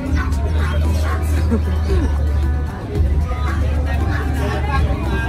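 A Pomeranian dog yips and barks amid the babble of a busy outdoor pet market, with people talking nearby and traffic rumbling underneath.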